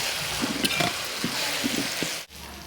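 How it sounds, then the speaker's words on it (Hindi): Ground spices with turmeric and Kashmiri red chilli roasting in a pan, a close continuous sizzle and fry broken by soft stirring knocks and scrapes, ending with a brief sharp clatter. "इन सभी मसालों को डालकर हम इन्हें अच्छी तरह से भूनेंगे।"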